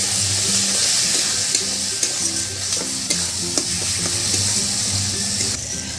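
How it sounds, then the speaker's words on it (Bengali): A spice masala with turmeric and salt is sautéed in a pan while being stirred, giving loud, close sizzling with repeated scraping strokes of the spoon against the pan. "এই মশলাটা কষিয়ে নেব"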